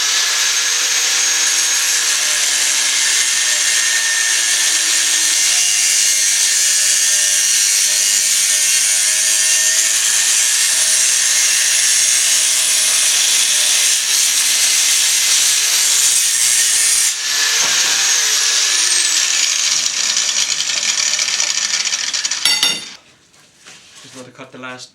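A handsaw cuts geodesic dome struts clamped in a vise on a small pallet setup, a loud, steady rasping stroke that runs on for over twenty seconds before stopping, followed by faint clatter.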